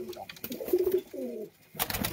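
Big Andhra pigeons cooing near at hand, a few distinct warbling coos rising and falling, then a short lull before a rustling burst at the end.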